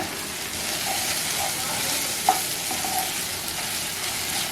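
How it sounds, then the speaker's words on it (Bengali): Chicken masala spices with cumin and coriander powder sautéing in a pan: a steady, close sizzle and hiss with faint stirring scrapes and one brief clink, and no speech. "একটু কষিয়ে নিই"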